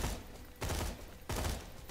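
Dahl assault rifle in Borderlands 2 firing in 3-round bursts, two distinct loud bursts of rapid cracking shots separated by a short gap over a steady noisy background.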